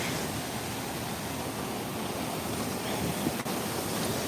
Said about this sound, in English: Let's sit here by the feature for a moment.